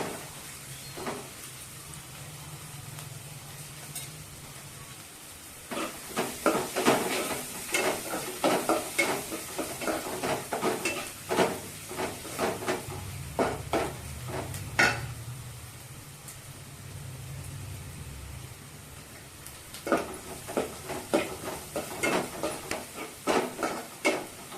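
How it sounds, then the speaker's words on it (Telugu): Spinach and amaranth leaves fry in a pan with soft sizzling, broken by repeated bursts of scraping and stirring strokes against the pan, close and fairly quiet. "పాలకూర తోటకూర ఫ్రై చేస్తున్నానండి."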